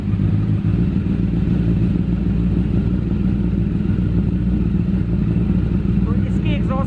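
A Honda CBR1000RR superbike engine idles close by with a steady, deep exhaust rumble that holds evenly from start to finish, around 95 decibels.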